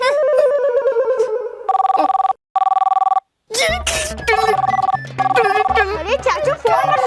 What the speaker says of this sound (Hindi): चाचू फोन बज रहा है।